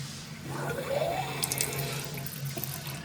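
Water rushes steadily as a toilet tank refills, a continuous hiss and gurgle with no voices.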